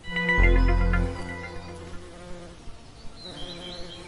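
Swarming bees produce a loud, close buzz that surges at the start and then settles into a quieter, steady drone with a few scattered bursts.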